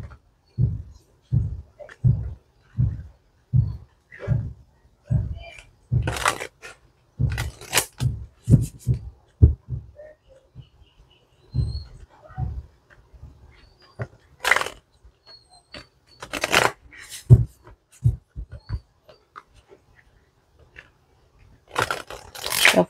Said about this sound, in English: Now let's see how the deck shuffles.